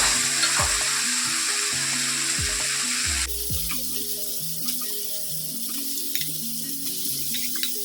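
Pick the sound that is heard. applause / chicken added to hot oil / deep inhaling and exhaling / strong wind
chicken added to hot oil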